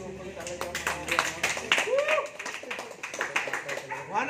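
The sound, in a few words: audience clapping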